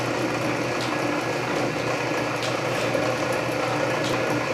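A Canedy Otto drill press runs with its power feed engaged at the slowest spindle speed, giving a steady mechanical hum and whir with faint periodic ticks, continuous and even throughout.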